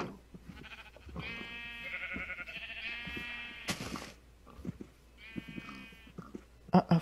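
Several drawn-out Minecraft sheep bleats ring out one after another, fairly close, separated by soft shuffling and a few clicks, ending with sharp taps.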